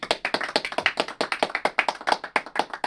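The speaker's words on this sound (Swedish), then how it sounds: "Så en applåd till er." A small audience at an award ceremony for a film marathon gives a short round of applause, a brisk, even string of claps, close and clear, with no talking.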